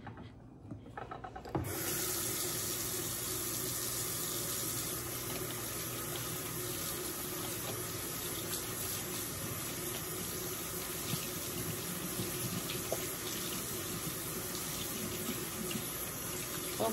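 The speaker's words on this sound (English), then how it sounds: "I'm gonna start off by washing my hands and then just rinsing the bowl out" Tap water runs into a sink while hands are washed and a bowl is rinsed. A short quiet start gives way to a steady, close, continuous stream of running water.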